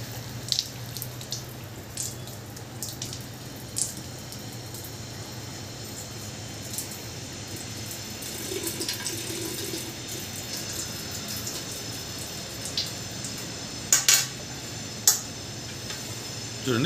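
Water drains steadily from new water purifier filter candles as a continuous trickling hiss, with scattered small ticks and clicks throughout and no speech.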